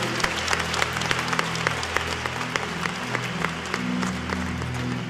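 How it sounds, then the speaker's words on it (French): A church congregation claps for the Lord in dense, sustained applause that fills the room, with a low murmur of voices and music underneath. "We clap unto the Lord."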